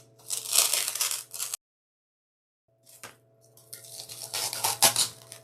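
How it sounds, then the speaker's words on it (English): Craft material being cut down for a Dollar Tree bunny flower box, two bursts of crunchy, scratchy cutting separated by a short silence, close and fairly quiet. "Okay, so I'm gonna cut this down."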